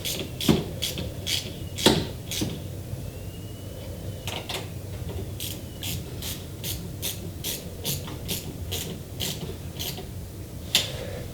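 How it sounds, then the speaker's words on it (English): Close clicking of a 10mm socket ratchet tightening car battery cable terminals, a few separate clicks early on and then a quick regular run of ratchet clicks, quiet and alone with no talk. "Now grab your 10mm socket, turn it to tighten, and just tighten the battery cables."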